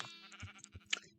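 Several short bleats from blocky sheep on a Minecraft farm, a quick series of nasal calls with small gaps between them, fairly quiet.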